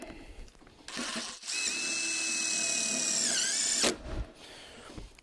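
A power drill drives screws into metal rafter hangers on a beam, with a short burst followed by a sustained whining run of about two seconds that winds down as the screw seats, then a final rattle.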